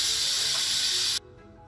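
A Crock Pot pressure cooker holding goulash releases its pressure in a loud, close, continuous hiss of steam that cuts off abruptly, leaving a quiet mechanical tail.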